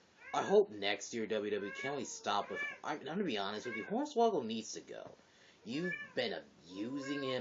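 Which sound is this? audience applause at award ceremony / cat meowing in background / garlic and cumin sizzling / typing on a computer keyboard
cat meowing in background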